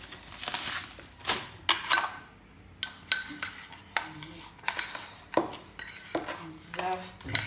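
Sugar stirred into a bread dough mixture in a bowl, heard as repeated clinks and scrapes of a utensil against the bowl in an uneven rhythm, close and fairly loud.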